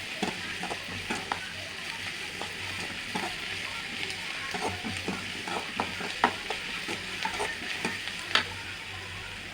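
Chicken cutlet mixture with coriander fries and is stirred in a pan, a steady sizzle broken by irregular scraping and stirring clicks, close and moderately quiet.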